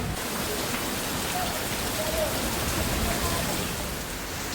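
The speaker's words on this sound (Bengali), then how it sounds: "অসাধারণ বৃষ্টি হচ্ছে এত গরমের পরে" Steady rain pours down in Krishnanagar after hot weather, a dense, even hiss, with no voices or other sounds standing out above the constant patter.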